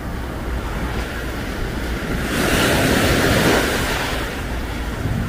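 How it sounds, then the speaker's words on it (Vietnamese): Sea surf washing onto Eden Beach on Cyprus in winter, a continuous broad roar of breaking waves that swells louder midway and then eases, with wind buffeting the microphone and no talk. "Thấy chưa, biển à."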